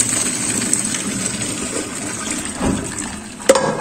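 Boiled pasta water is poured off into a sink in a home kitchen, giving a steady gushing splash with a few sharp metallic clinks and a brief louder surge near the end.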